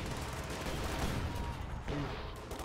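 Machine gun fire carried by Panzer Grenadiers in the World War II strategy game Company of Heroes 2, a dense rattle of shots heard amid battle noise at moderate volume.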